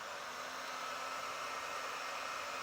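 A heat gun blows steadily and quietly up close, shrinking heat-shrink connectors on trailer wiring with a continuous airy hiss and no breaks.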